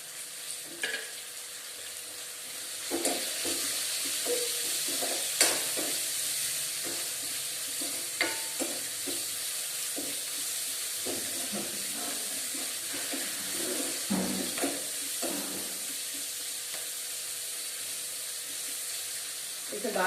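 Onion frying with salt and curry leaves in a pan for poori curry, a steady sizzle broken by scattered clinks and scrapes of stirring.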